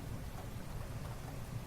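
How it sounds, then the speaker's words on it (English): Steady, dense rainfall fills a video game scene, a constant close hiss with a low rumbling undertone and no voices. "And it is raining."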